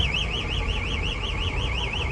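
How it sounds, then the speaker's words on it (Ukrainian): A car alarm wails in a steady, rapidly warbling siren pattern, loud and close, cycling evenly over low background rumble with no talking. "Така сигналізація аж ж злякався."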